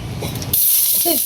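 Dry red chillies drop into hot oil and set off a sudden loud, sustained sizzling hiss right up close, with brief kitchen clatter just before it.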